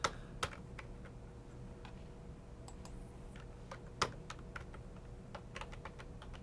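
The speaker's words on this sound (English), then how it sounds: "And here you will enter your username and password to log in." Close, fairly quiet keystrokes on a computer keyboard, entering a username and password during login to a Raspberry Pi desktop, irregular clicks in short bursts with brief pauses and a few louder key presses.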